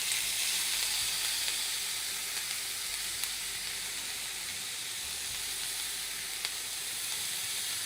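Sofrito sizzles in an oiled pan with a loud, steady, hissing crackle that lasts throughout and has no talking over it.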